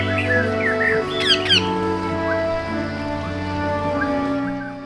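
A pet Indian rose-ringed parakeet gives loud, close squawks and sharp chirps in a cluster, over a steady background hum.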